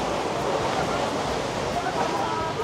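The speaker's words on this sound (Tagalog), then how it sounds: "Mas malakas yung alon ngayon compared last night." Ocean waves surging onto the shore at Romblon, a dense, continuous rushing wash heard close and loud with no clear breaks.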